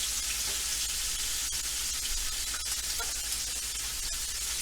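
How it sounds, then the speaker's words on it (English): A tomahawk ribeye steak, the bone-in ribeye, sears in slightly smoking hot oil in a pan, giving a steady, close hiss and crackle of frying that runs without a break and with no voices. "So now I'm going to sear each side for about 2 minutes to get a nice brown"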